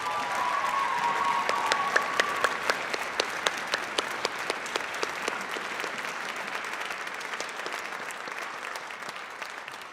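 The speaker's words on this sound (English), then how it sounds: "Give another round of applause for Jonas." An audience at a high school concerto concert claps steadily, a dense wash of applause that gradually thins toward the end, with a few sharp individual claps standing out.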